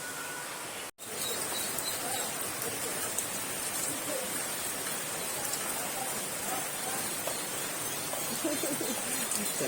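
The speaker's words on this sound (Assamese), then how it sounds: "বাহিৰত তামাম বৰষুণ দি আছে তো যাই ফালে দেখাই আছোঁ কিমান বৰষুণ দি আছে" Heavy rain falls outside in Rangia as a steady, even hiss that runs throughout, fairly soft and uninterrupted apart from a brief dropout near the start.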